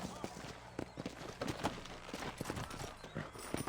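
Horse hooves in Red Dead Redemption approach with a quick, uneven clip-clop of soft thuds, fairly faint and close, with a voice speaking at times.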